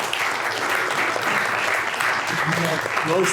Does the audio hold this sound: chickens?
no